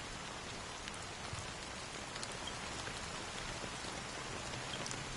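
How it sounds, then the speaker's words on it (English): Steady rain falls in the video game Honkai: Star Rail, a soft, even patter of drops with no voices over it. "So, how long has this rain been going on for?"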